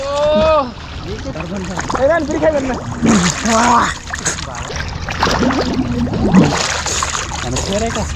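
Water splashes as someone bathes in a monsoon-season haor lake at Nikli, Kishoreganj; irregular sloshing bursts sit beneath loud, close voices talking and calling out throughout.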